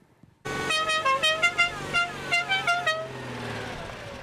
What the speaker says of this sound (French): 70 bolides ont paradé sur les routes de la Martinique aujourd'hui, des bijoux de collection dont certains ont plus de 25 ans d'âge